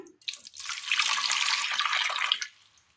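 Water pours steadily into a pressure cooker holding washed, chopped pumpkin pieces, a close splashing stream lasting a couple of seconds before stopping.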